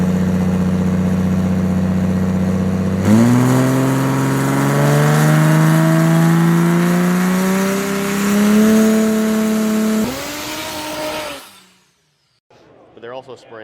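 A 5,000 hp turbocharged race truck engine makes a pass, a loud sustained drone that steps up through rising harmonics in several gear changes, then cuts off abruptly into near silence with faint clatter afterward.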